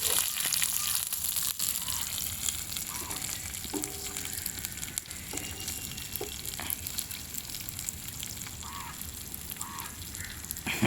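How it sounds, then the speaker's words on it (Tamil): Onions sautéing in a pan outdoors in a village setting, a steady close sizzle with occasional scraping stirs and faint background calls. "ரைட், வதக்குங்க."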